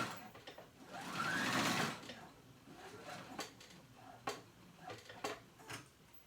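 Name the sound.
sewing machine top stitching a jacket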